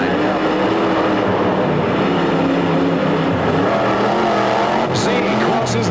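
A monster truck engine roars loud and continuous as it accelerates hard through a tight final turn of a race run in an Anaheim, California arena, with a commentator talking over it.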